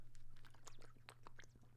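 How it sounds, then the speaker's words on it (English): Someone gulps down water, with close, wet mouth and throat clicks coming in quick bursts over a steady low hum, with no talking. "I just swallowed so much water"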